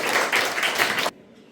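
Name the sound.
audience clapping for students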